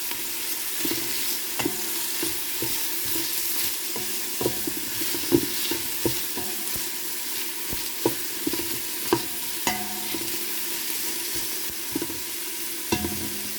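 Diced green pepper sizzles steadily in a soup pot while being stirred, a constant frying hiss with intermittent scraping clicks from the spoon against the pot, close and continuous.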